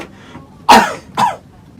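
Two sharp, close coughs come about half a second apart from a person who has had a cough for a few days and feels chest pain when coughing, against a quiet background.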